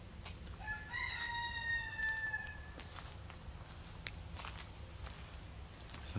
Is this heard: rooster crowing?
yes